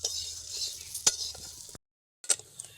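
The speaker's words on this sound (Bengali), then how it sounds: "আলুগুলো ভাজা হয়ে গেছে" Potatoes fry without oil in a hot pan, sizzling with a few scraping stirs, stopping for a moment, then starting again with another clack of a utensil.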